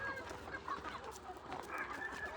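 Free-range country chickens housed in a tent cluck softly and continuously, many birds overlapping at a modest distance in a quiet farm setting, with no talking.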